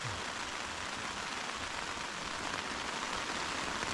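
Steady, dense rain patters on a taut tent overhead while wild camping at Dale Head Tarn in very bad weather, a continuous close hiss with no voices.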